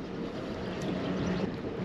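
Motor boat pulling away from a harbour at Lelystad Houtribhaven, a continuous low engine rumble mixed with wind noise on the microphone, steady and fairly close, with no talk.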